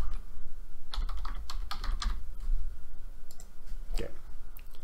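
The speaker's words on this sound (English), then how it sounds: "Let me just type the email here." Typing an email on a computer keyboard: quick bursts of close, light key clicks with brief pauses between them, over a low steady hum.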